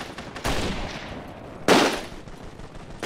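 Infantry gunfire in a Mount & Blade: Warband battle comes across as a couple of sharp shots, one near the start and a louder, brighter crack later, over a low, steady background rumble.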